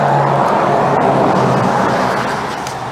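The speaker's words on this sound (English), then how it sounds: "excuse the road noise" Steady, loud road noise from a moving 2020 Jeep Gladiator while towing, a broad rushing roar that fades slightly toward the end, with no speech.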